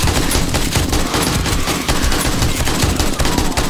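Sustained automatic gunfire in 7 Days to Die, loud continuous rattling bursts with no pause across the whole stretch.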